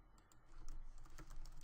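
Faint keystrokes on a computer keyboard, a quick irregular run of soft clicks at close range with no voices.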